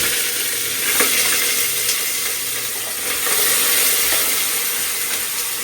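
Onions frying in a pressure cooker after cumin is roasted give a steady, loud, close hiss of oil that holds evenly throughout, with faint stirring ticks and no talking.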